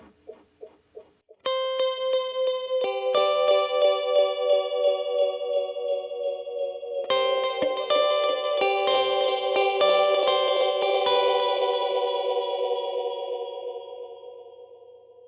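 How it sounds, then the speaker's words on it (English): Plucked electric guitar notes run through a Headrush delay with feedback turned up and detune, each repeat shimmering and slightly detuned, stacking into a dense wash that slowly fades. "you can hear with the detune that as the signal repeats, is going to actually detune and pitch each time"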